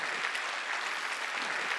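Steady applause from a church congregation at a Wednesday worship service, a dense wash of many hands clapping evenly throughout, moderately loud and unbroken, with no voices on top.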